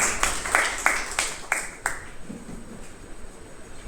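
A few people in a Toastmasters club meeting clap in a brief round of applause: about seven distinct, fairly close hand claps in an uneven rhythm that slows, then fades into quiet room noise.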